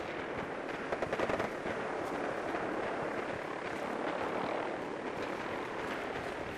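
Loud, close gunfire in the video game Fallout 4 on Survival difficulty: a burst of rapid shots early on, then a sustained, dense wash of firing and combat noise throughout.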